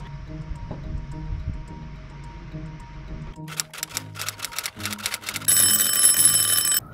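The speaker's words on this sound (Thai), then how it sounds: "เสียงนาฬิกาปลุกตอน 4:00" An alarm clock set for 4 a.m. rings in rapid repeated bursts of bright, clicking beeps, growing louder and more continuous toward the end, after a stretch of quiet room noise.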